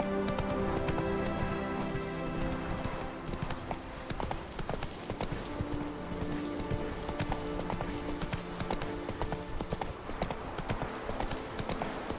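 Horse hooves gallop in the video game The Witcher 3: Wild Hunt, a steady, rapid clip-clop rhythm running throughout under game music.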